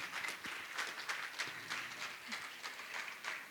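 A seated audience at a religious gathering in Shikharji, Jharkhand applauds to honour invited guests, a soft, continuous patter of many hands that stays fairly faint and steady throughout.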